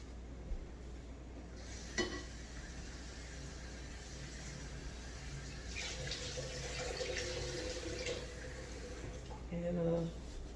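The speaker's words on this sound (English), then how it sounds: "and I'm gonna rinse these off." Tap water runs steadily while crawfish are rinsed in a kitchen sink, a soft continuous hiss broken by a few faint clinks and splashes, with a person speaking quietly at points.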